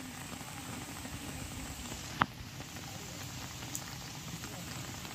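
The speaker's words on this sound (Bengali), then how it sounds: "প্রচুর পরিমাণে বৃষ্টি হচ্ছে" Heavy rain falling at a riverside park near Naihati, a dense, steady hiss of drops on surfaces with one sharp knock midway.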